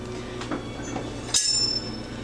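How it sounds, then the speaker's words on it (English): A kitchen knife is drawn through the built-in sharpener of a knife block: a couple of soft clinks, then one short, bright metallic scrape. "I sharpen my knife a little bit before I cut it"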